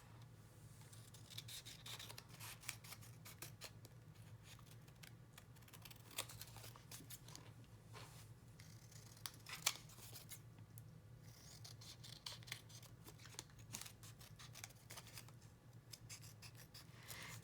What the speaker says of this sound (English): So I'm just going to cut the excess paper off.